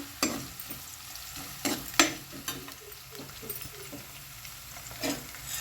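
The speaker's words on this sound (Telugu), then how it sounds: "కొంచెం ఇవి వేగినట్టు అయిన తర్వాత పచ్చిమిర్చి వేసుకోవాలి ఇదిగోండి పచ్చిమిర్చి కూడా వేసుకుంటున్నా" Green chillies frying in hot oil with onions in a pan while being stirred, a steady sizzle broken by several sharp scraping clacks of the spoon against the pan, close and fairly loud with no talk.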